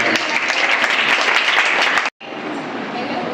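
A crowd at a birthday event applauds loudly and densely, breaking off abruptly for a moment before the clapping resumes a little softer.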